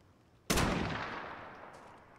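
A single sharp gunshot in Call of Duty Modern Warfare 2019, a sudden loud crack followed by a long fading reverberant tail, heard alone.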